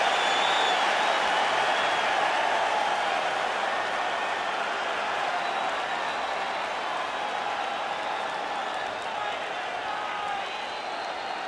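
A capacity crowd at a UFC welterweight championship event roars with steady cheering and applause, a dense, loud wash of noise that fills the arena without letup before the fight.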